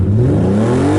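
A drift car's engine revs with a loud, close, sustained whir whose pitch climbs steadily over about a second, with no voices over it.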